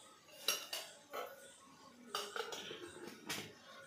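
A metal spoon clinks against a pot while sugar is added for homemade tea: a few sharp, separate taps and scrapes close by, spaced irregularly over quiet room noise, with no talking.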